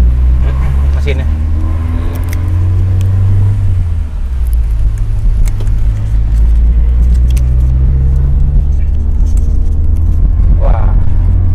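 A car engine idles close by with a constant low rumble, while people talk over it.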